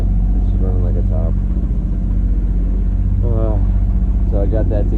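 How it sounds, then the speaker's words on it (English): Steady low diesel engine drone of a sailboat motor-sailing at sea, running continuously throughout while someone talks over it. "I have to keep the engine running even while sailing. So it's motor sailing."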